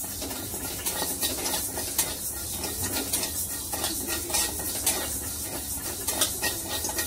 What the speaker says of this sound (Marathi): स्लो गॅसवरच सगळे जिन्नस भाजून घ्यायचे